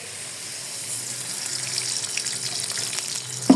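Oil and spices such as cardamom and cinnamon sizzle in a pan, a steady bright hiss that grows gradually louder, ending with a short clatter.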